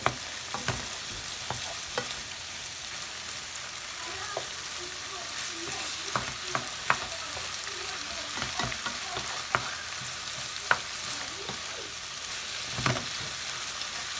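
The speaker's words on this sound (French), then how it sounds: "vous mélangez le tout pour que le citron s'imprègne dans tout le plat" Chicken curry rice in cream sauce with lemon is stirred in a sizzling pan, with a steady frying hiss and scattered soft scrapes and knocks from the spoon, close by and without speech.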